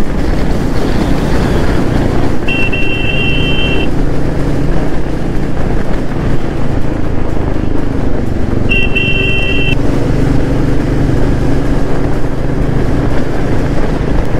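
A KTM 390 and a Pulsar 220 sports bike riding along together, with a loud, steady engine and wind roar throughout and two short horn toots partway through.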